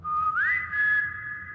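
A single whistled tone with a convolution reverb effect in a cave-like space holds steady, glides upward, then sustains, with the reverb giving it a smooth, lingering body.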